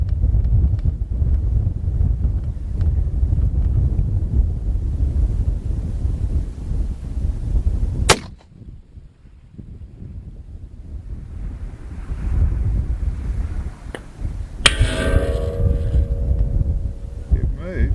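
Strong wind buffeting the microphone at an outdoor extreme long-range shooting range, a loud steady roar that briefly drops before gusting back, with a sharp crack near the middle and a bang near the end.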